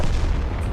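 A tank cannon shot in World of Tanks lands as a loud, close, deep boom that fills the whole moment with heavy low rumble.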